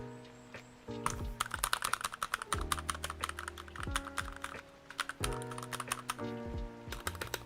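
Typing on a computer keyboard: rapid, close clicks and clacks in bursts, with a few heavier thuds, over a faint steady hum.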